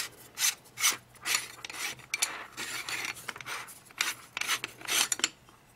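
The mounting ring of a Sony CCD Effio-E CCTV surveillance camera is twisted loose, giving repeated close rasping, scraping turns in uneven bursts with brief pauses between them, with no talking.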